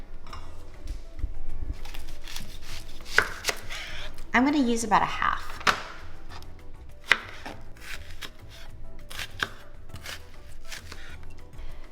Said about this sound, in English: we're gonna start on chopping up all the vegetables that go into the ceviche. Let me start with the red onion.